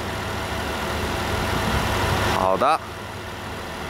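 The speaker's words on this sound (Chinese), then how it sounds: "是正常的引擎声音，还没有刚刚起来还没有什么暖过" A cold 2016 Jeep Wrangler Rubicon with a Chrysler engine idles steadily at a low, even rumble, while someone talks over it and a short burst of other noise cuts in near the end.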